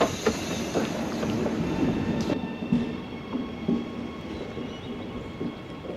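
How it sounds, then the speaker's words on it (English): A train rumbling and clattering close by, with rhythmic knocks of wheels over track and a brief squeal, no voices. "And my train's coming right on time"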